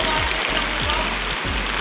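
Rain falling steadily at a pigeon derby race loft in Cabagan, Isabela, a dense hissing patter on surfaces, loud and continuous with low rumbling thumps underneath.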